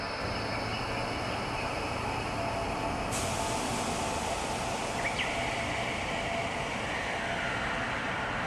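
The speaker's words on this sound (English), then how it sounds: "Okay, we got train sounds, ambient." Steady ambient rumble of a train at a station in Japan, with a constant broad wash of rolling and mechanical noise throughout and a brief higher-pitched squeal near the middle; no talk.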